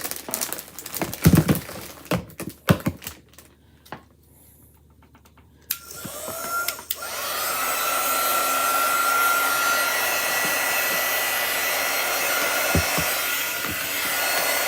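A Chalk Couture quick dry tool starts up after a few scattered handling knocks, then blows a loud, steady stream of air close by for several seconds without interruption.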